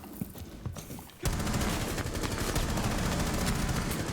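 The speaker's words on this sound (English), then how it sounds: "I'll try and shoot moving while keeping concise recoil control" Sustained automatic gunfire in a shooter video game, a loud rapid stream of shots starting abruptly after a second of quieter game sounds.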